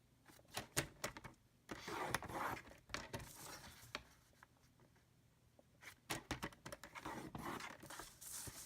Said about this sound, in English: we're going to score it at 1 inch along all 4 sides